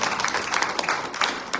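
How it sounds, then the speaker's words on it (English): A short burst of audience applause at a Hindu religious gathering (yajna) at a Dharmic Sabha in Cambridge, Canada, dense steady clapping filling the clip without talk. "Please give her a round of applause."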